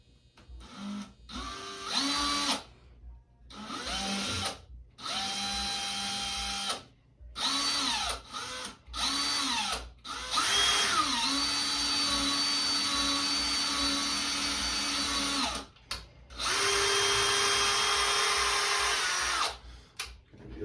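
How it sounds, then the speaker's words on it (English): A power drill whirs in repeated bursts, pitch rising and falling as it bites into drywall, with short pauses between runs and one longer final burst. "we're going to go ahead and drill into the wall"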